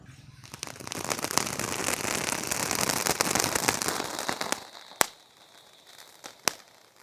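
A fish-shaped novelty firecracker sprays sparks from its mouth, a dense crackling hiss that swells for a few seconds and then stops, leaving two sharp isolated pops near the end.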